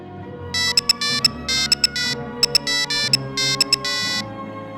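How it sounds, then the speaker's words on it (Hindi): A telephone rings with a bright electronic ringtone, repeating short melodic bursts in a steady pattern over a soft background music bed, loud and close with no speech. "नगीना ने घर पहुंचते ही शराफत को फोन किया"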